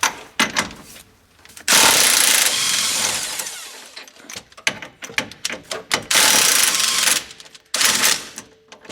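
Brake caliper bolts being loosened and removed on a car: long, loud buzzing bursts from a power tool alternate with quick rattling clicks and handling knocks, close up and with no voices.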